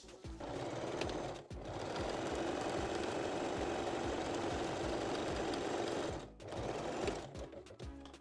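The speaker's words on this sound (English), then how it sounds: "I am sewing a narrow underwire casing over it on the wrong side" A sewing machine stitches a narrow underwire casing on the wrong side of a foam cup bralette, running in long steady bursts with brief pauses, its needle chattering rhythmically and close by.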